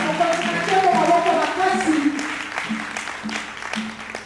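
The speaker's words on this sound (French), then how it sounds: "Est-ce que l'Église peut acclamer très fort le Seigneur?" A church congregation cheers and applauds in a dense wash of clapping and raised voices. A speaker's voice carries over the crowd, which fades toward the end.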